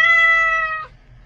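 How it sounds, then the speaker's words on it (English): A house cat meows once, a single clear, drawn-out call up close lasting nearly a second before fading into quiet room tone. "And the cat's in my chair."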